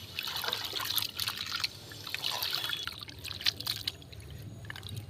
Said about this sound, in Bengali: একবার আমি জলটা ধুয়ে দিয়েছি এইভাবে আমি দশ থেকে বারোবার মতো ধুয়ে নেব